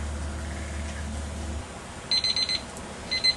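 A timer alarm goes off at the end of a stage during home beer brewing, sounding as short bursts of rapid high-pitched beeping after a low hum stops.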